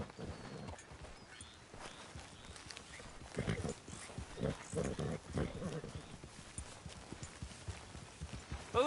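Horse hooves clip-clop at a walk across ground in the Red Dead Redemption 2 video game, a soft irregular rhythm that grows more distinct midway, mixed with faint ambient game sounds.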